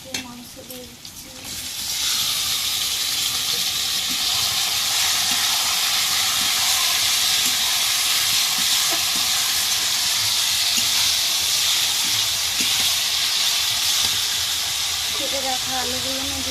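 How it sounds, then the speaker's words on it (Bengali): Meat is tipped into ginger and garlic frying in a pan in a village kitchen. After a short quieter start, a loud, steady sizzle bursts up and holds as a dense, continuous hiss to the end. "এবারে এর মধ্যে মাংস দিয়ে দিচ্ছি।"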